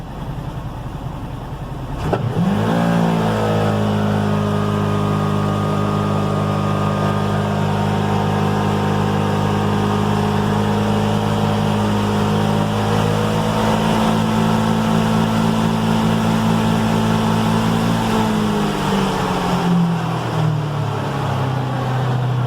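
A stock 2019 Polaris Ranger 1000 Crew Cab engine starts from a low rumble, climbs to a loud, steady high rev held for about fifteen seconds, then drops back down, close and alone.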